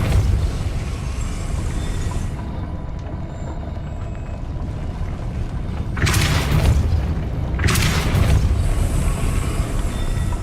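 Two heavy Depulso spell blasts in Hogwarts Legacy boom one after the other, each a brief broadband burst over a low rumbling game background.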